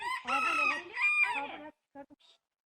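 An ornamental rooster crows nearby in a village, a loud drawn-out call in several rising and falling parts, followed by a few short clucks.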